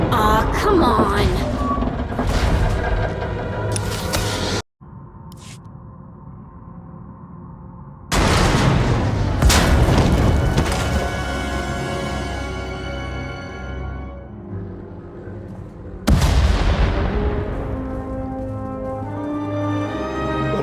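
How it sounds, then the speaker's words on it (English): Explosions in the Star Wars: The Old Republic video game, a series of loud booming blasts with long rumbling tails, separated by quieter stretches of low ambient hum, with no talking. "We heard explosions."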